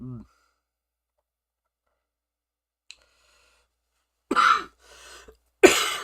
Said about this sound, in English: Oh gosh, now I'm coughing.